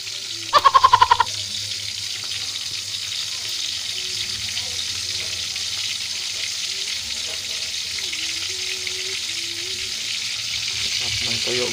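Tuyo, dried salted fish, frying in hot oil with a steady, close sizzle throughout, joined by a brief burst of sharp clattering near the start and faint background noise.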